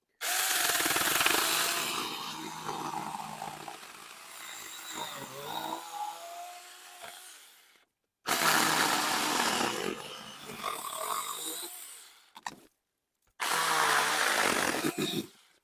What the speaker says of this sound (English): Saker mini chainsaw, man.